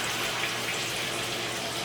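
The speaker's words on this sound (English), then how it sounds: "I'm going to be getting some water in this pot to cook my dumplings" Water pours steadily from a tap into a cooking pot for boiling dumplings, a continuous close rushing hiss with no breaks.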